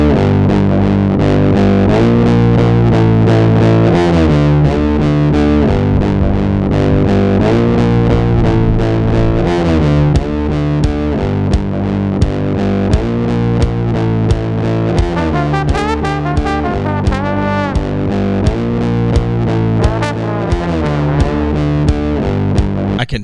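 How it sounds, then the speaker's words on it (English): A trombone played through a Big Muff fuzz distortion pedal, buzzy and saturated, sustaining a melodic line with swelling notes and no talking throughout. "That's a fuzzy sounding trombone."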